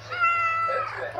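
A cat meows once, a single drawn-out, close and clear meow lasting about a second that trails off at the end.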